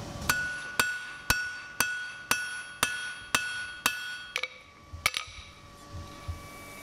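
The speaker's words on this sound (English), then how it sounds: "I'm going to take another heat on this bar as well, use the heel and the toe and the cross peen" Blacksmith hammering a hot bar with heel, toe and cross peen of the hammer: about a dozen sharp ringing metallic strikes in a steady rhythm, bright and close, with a couple of quick double blows near the end.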